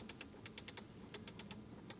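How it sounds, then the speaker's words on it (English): The air vent control in a Bentley Bentayga S gives a series of crisp, close, light clicks in quick, slightly uneven succession, with a short pause midway and no talking. "Clicking sound, listen to that."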